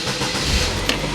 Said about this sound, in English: turn the car on.